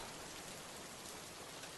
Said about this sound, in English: This rain must have chilled you to the bone.